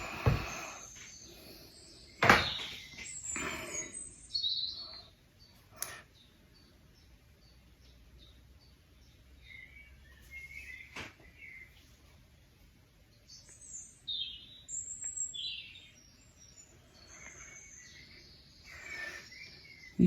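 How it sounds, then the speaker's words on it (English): Birds chirp and call in an outdoor garden, scattered short tweets near and far over a quiet background, with a couple of sharp knocks early on and no talking. "You can hear the birds in the background."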